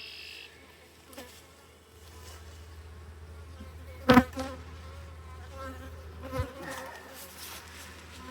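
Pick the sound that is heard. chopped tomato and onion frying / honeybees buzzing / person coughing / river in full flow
honeybees buzzing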